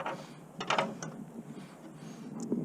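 A wrench working a nut on a bracket during an antenna delete on a 2001 Chevrolet Silverado, giving short bursts of close metallic ratcheting clicks over quiet background.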